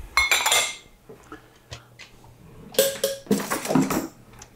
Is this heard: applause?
no